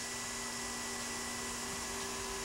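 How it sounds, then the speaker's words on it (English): A household vacuum cleaner drones steadily with a constant whine and hiss, used as the suction source for vacuum-forming softened plastic over a mold while building a model aircraft; continuous and fairly faint, with no talk. "quickly place the plastic over the part and start the vacuum cleaner"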